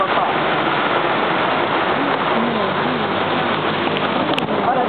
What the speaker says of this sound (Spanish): Ahora sí, otra vez está lloviendo